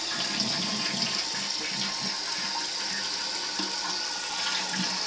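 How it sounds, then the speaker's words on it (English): A household toilet flushes with a steady rush of water and then keeps running as the tank refills, a continuous close hiss lasting throughout. "Let's flush you."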